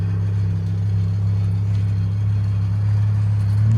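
A 1994 Volvo 850 Turbo with a straight pipe exhaust and a tractor flap idles with a deep, steady low drone, close and continuous, with the flap's fluttering blended into the even rumble.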